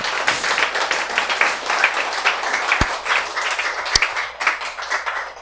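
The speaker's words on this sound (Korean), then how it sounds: "박수로 맞이해 주시기 바랍니다" An audience claps to welcome a father, mother and son attending together as a family, the dense applause holding steady and loud throughout with a couple of sharp knocks partway through.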